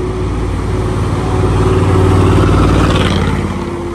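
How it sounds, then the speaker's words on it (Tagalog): An airport limousine bus engine runs steadily at close range, a continuous low rumble that swells slightly in the middle and holds on without any talk. "pakinggan nyo yung makina"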